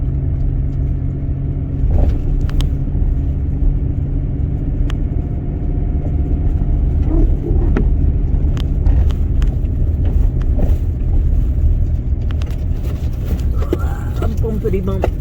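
A car drives over a bumpy country road, a steady low engine and road rumble with occasional knocks and jolts from the uneven surface, heard from inside the vehicle.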